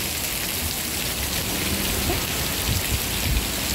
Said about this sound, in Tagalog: Ang lakas ng ulan sa amin, sa taas.